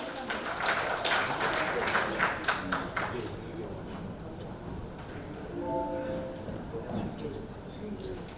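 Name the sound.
applause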